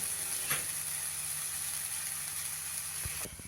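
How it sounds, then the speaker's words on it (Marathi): A ghavan, a lacy rice-flour pancake made with buttermilk, sizzles softly in a pan after a little oil is drizzled over it, a steady faint hiss with a brief clink near the end. "आता थोडंसं तेल सोडते वरून"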